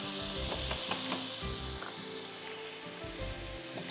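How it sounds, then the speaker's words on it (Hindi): Boneless chicken fries with about two spoonfuls of yogurt for a quick chicken biryani, hissing in a pan. A spoon clacks and scrapes irregularly as it stirs. No voices are heard. "एंड जस्ट फ्राई दिस अच्छी तरह"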